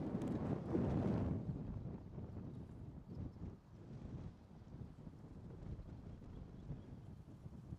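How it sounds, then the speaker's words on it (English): Gusty wind buffets the microphone with low rumbling roar, strongest at the start, then continuing as steady outdoor wind noise. "Man, it's so windy."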